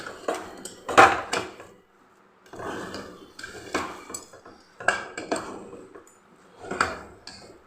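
A spoon stirs rava pongal, semolina cooked in a pot, giving intermittent bursts of metal scraping and clatter against the pot with short quiet gaps between strokes and no talking.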